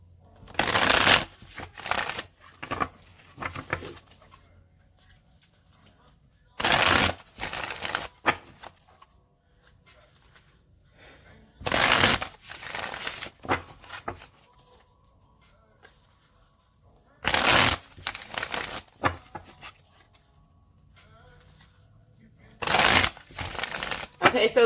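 Tarot cards shuffled in five separate riffle bursts, each a loud close flurry of snapping cards, spaced by quiet pauses where a person speaks softly.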